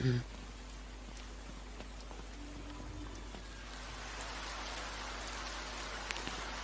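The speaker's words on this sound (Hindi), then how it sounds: "लेकिन बारिश का मजा तो ले सकते हैं" Steady rain hisses in a scene from the animated series Battle Through the Heavens, Hindi dub, the downpour swelling noticeably heavier partway through over a low constant hum.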